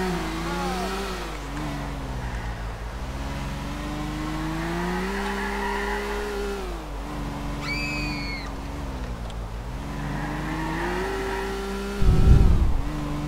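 A car driving through a tunnel in Grand Theft Auto IV, its steady mid-pitched engine drone rising and falling with shifts in speed, a brief squeal midway and a low thump near the end; someone talks quietly at times.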